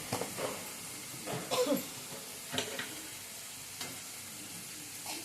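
Amaranth leaves frying in a pan as salt and turmeric are stirred in, giving a soft continuous sizzle with a few brief scraping stirs and small clatters, quiet and close.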